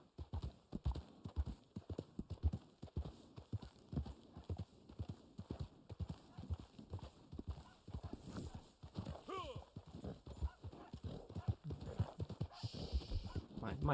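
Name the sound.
horse hooves clip-clop in Red Dead video game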